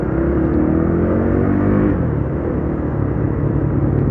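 A heavy UM Renegade Commando motorcycle pulls away under acceleration, its engine a steady loud rumble that climbs in pitch, then settles into a continuous droning run close to the rider.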